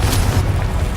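A Confringo fire spell explodes in Hogwarts Legacy, a deep, loud booming blast with a rumbling low end that holds steady for about a second.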